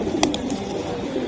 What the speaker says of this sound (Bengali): এই যে দেখেন ভাই, এগুলো কবুতর ভাই